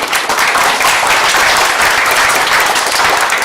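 Applause for Texas Master Naturalists volunteers at a prairie planting in Hermann Park, outdoors: a loud, dense, continuous round of clapping from a gathered crowd that stays even for the whole stretch.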